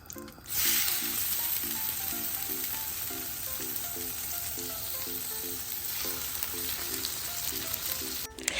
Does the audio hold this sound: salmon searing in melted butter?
yes